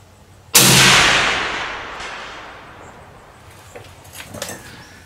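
A single sharp crack from a .280 Ackley rifle firing 145gr Barnes LRX bullets bursts out close and loud, then rolls into a long fading echo across open ground, followed by faint rustling.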